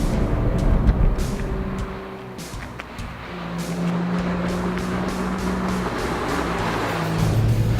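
A BMW 1M Coupe is driven hard through corners, its engine note rising and falling with shifts and sustained revs, loud and close, mixed with road and wind noise.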